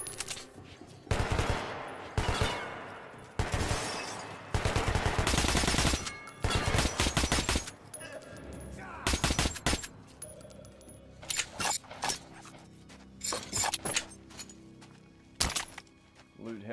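Rapid bursts of gunfire in the shooter game Metro Last Light crack loudly in clustered volleys, some automatic and some single shots, with quieter gaps of movement between them.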